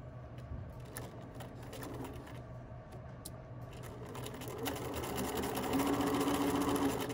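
A sewing machine runs steadily, stitching the side seams of a skirt at a 5/8 seam allowance, its motor hum and needle clatter continuous and growing slightly louder toward the end, with no voices.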